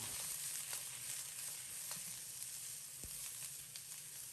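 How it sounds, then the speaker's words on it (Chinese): Onion and green chili peppers stir-fried in a hot wok over high heat with a little scallion oil, producing a continuous sizzle with a few scrapes and tosses, quiet and without voices. "放入洋葱、尖椒，开大火简单翻炒扒拉2下"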